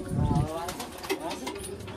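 Pigeons on a rooftop give soft, low cooing, a brief murmur up close near the start and fainter coos after, while someone talks over them.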